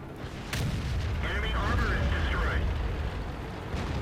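A tank gun firing and hitting in World of Tanks, a loud boom near half a second followed by sustained battle rumble, with a person talking over it.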